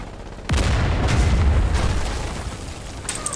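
A mortar shell strikes near a bunker at Iron Junction in Foxhole, a sudden heavy boom that rumbles and fades over a few seconds, loud and close with no voices on top.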